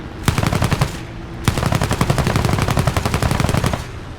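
War Thunder air-battle machine-gun fire: a short rattling burst, a brief pause, then a longer sustained burst of rapid loud shots, close and dry, with no talking.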